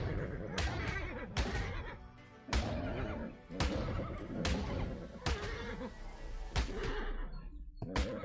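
A horse in the video game ARK gives repeated loud neighs and whinnies, sharp bursts recurring about every second over a dense game soundscape.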